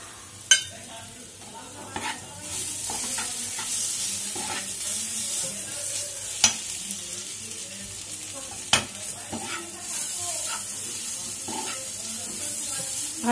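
Spice paste with turmeric, salt and dry red chilli powder sizzles softly in a pan for a katla fish curry, with steady stirring scrapes and a few sharp spoon clicks against the pan.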